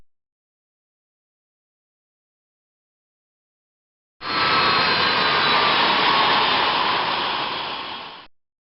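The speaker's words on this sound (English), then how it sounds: "Now, shut down the engines by touching the start levers on the aisle stand." Boeing 737NG jet engines in a flight simulation: after a silent stretch, a loud steady turbine whine and roar comes on abruptly, holds for about four seconds, then tapers and cuts off.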